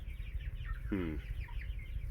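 A single short chirping call from a young bird rises above steady low background rumble, with faint peeping around it.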